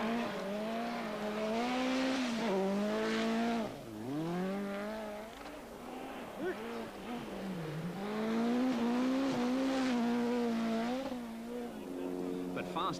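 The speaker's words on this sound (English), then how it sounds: "it was Blomqvist, the 7 times winner of the Swedish, first down the frozen roads in the new RS200" A Ford RS200 Group B rally car on frozen roads at the 1986 Swedish Rally, its engine loudly revving and rising through gears, dipping briefly between shifts, close and strong throughout with no talk.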